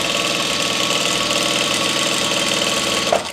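A sewing machine runs steadily, stitching through thick double-layered satin and cotton fabric for a loc sock, its motor giving a continuous, close, rhythmic whirring hum without pause.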